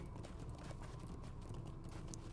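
Horse hooves clip-clop steadily in the online game Lord of the Rings Online, a quiet, even rhythm of repeated hoofbeats on ground, heard alone without talk.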